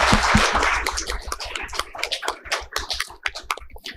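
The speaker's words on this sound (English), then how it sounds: "Can we have a round of applause for the panel," An audience at an insolvency and bankruptcy conference applauds the panel, dense clapping at first that thins into scattered individual claps, fairly close and loud.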